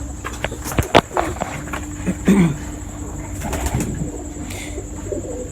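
Soft pigeon coos near at hand among scattered clicks, scuffs and flutters, with faint background noise and no talking.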